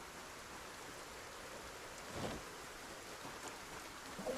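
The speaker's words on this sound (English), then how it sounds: "I like the audio's being weird with the rain." Steady rain hiss in a video game, a continuous broadband wash at moderate level with a couple of brief swells, no talk over it.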